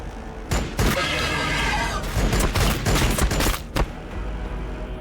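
Rapid gunfire volleys in the Warhammer 40K Battlesector strategy game, dense crackling bursts and booms repeating over a few seconds, loud and close, with bits of speech-like sound mixed in.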